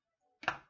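One short, quiet cut through a piece, a single soft chop or slicing thud lasting well under a second.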